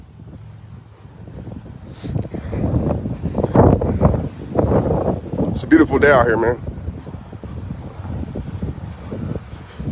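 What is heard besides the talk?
wind blowing into the microphone outdoors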